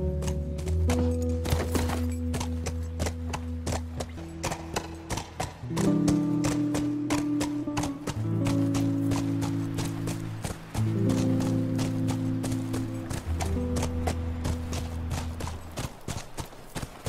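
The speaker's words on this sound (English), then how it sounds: "That's our horse." Horse hooves clip-clopping at a steady trot in The Last of Us, a continuous rhythmic patter of hoofbeats under a sustained musical score.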